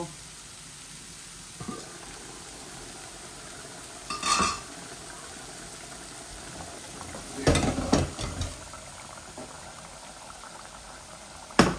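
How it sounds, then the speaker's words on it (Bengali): Vegetables sizzle quietly in a pan, a soft frying hiss broken by a few louder stirring scrapes and clatters, close and mostly without speech. "এইভাবে এগুলা ঝরঝরা করে ভাজি করব"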